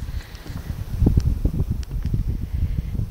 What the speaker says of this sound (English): It's very breezy today.